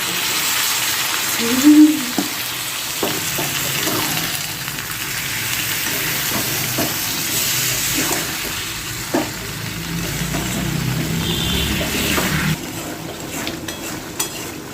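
Jackfruit curry fries in a pan with spices and a splash of water, a steady soft sizzle under repeated scraping and stirring strokes, with occasional clinks of the utensil against the pan.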